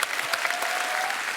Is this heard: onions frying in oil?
no